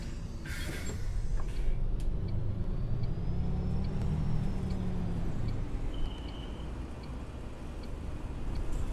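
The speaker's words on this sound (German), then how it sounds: "Aber an sich klingt der Bus nicht schlecht." In OMSI 2 on a Ruhrgebiet map, a city bus engine drones steadily at close range, its low rumble rising and easing slightly, with brief hisses and clicks over it.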